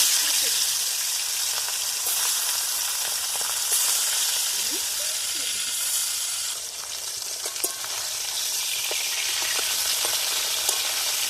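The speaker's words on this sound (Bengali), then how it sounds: "আমার তেলটা গরম হয়ে গেছে, এবার মাছগুলো আমি একে একে ছেড়ে দেবো এর মধ্যে" Fish slide one by one into hot oil in a wok, giving a steady bright sizzle with scattered crackles and pops that shifts midway as more pieces go in; no one speaks.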